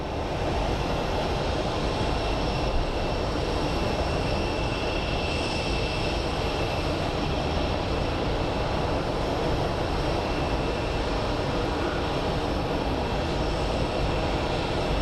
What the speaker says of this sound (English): So it's a 5-year-old A321 coming in.